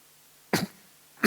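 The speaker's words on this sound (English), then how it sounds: "Cough, cough." Two short, sharp coughs a moment apart, close and fairly loud, with quiet in between.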